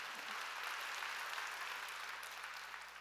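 Korean church congregation clapping during a sermon, a steady wash of many hands applauding at even strength throughout, slightly distant and without speech.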